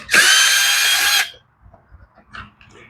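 Power drill removing bolts from the plastic front end of a lawn mower, one loud close whirring burst of about a second, followed by faint clicks and handling noises.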